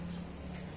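Young tumbler pigeons in a coop give a brief, soft, low coo close by, over a muffled indoor background.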